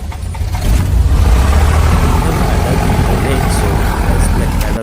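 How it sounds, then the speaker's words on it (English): Light aircraft engine started and running on the ground while parked before taxiing to the runway, a loud, steady, broadband engine drone that swells early and holds close throughout. "Yeah, we have started the engine."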